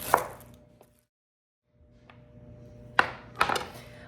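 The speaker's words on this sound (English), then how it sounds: "I'm going to cut off that much and use the rest" A knife cuts through a large onion on a cutting board, giving a few sharp, separate chopping thuds with a quiet gap between them, close and clear.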